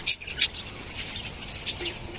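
Frightened pet birds call after a night storm, giving two quick, high chirps near the start, then only faint scattered peeps at a distance.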